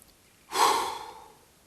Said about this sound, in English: It's kind of like the hard exhale